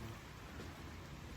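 Soft, steady patter of rain falling outside in Uzbekistan in cold weather, a faint continuous hiss heard from a distance with no voices.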